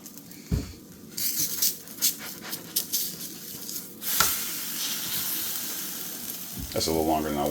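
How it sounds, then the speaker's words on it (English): Pumpkin cheesecake pancakes frying in a hot pan, a steady close sizzle that swells and continues after a few knocks and clatters near the start, with a brief voice at the end. "Let them cook on one side for maybe 40 between 40 and 60 seconds."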